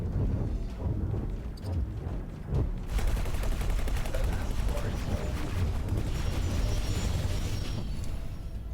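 Space combat weapons fire in the game X4: Foundations, with pulse turrets blasting in dense, rapid volleys that grow into a continuous loud barrage.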